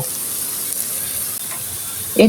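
Battered jute leaf pakoras hiss steadily in hot oil after being flipped, a close even sizzle with a brief voice breaking in at the very end.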